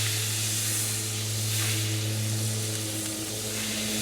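Butter sizzles in a hot cast iron skillet with a steady, even hiss over a low constant hum, continuous and fairly close, with no talking.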